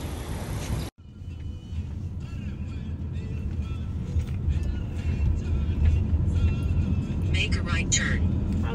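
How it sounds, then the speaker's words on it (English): A car pulls up for an Uber pickup in Edmonton, its steady engine rumble and road noise continuous and fairly close, with faint background sounds layered on top. "Yeah, I think that's my car."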